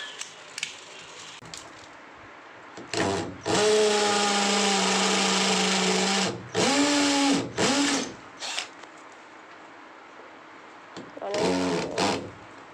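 Electric drill, wired to a new on-off light switch during house rewiring, whirs in a few bursts: one long run of about three seconds, two shorter pulses, then a final burst, loud and close with quiet gaps between.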